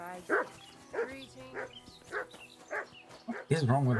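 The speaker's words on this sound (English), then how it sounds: "What is wrong with that dog?" A dog in a video game barks in a regular series of about six or seven yips at a steady rhythm, moderately close, with a voice cutting in at the end.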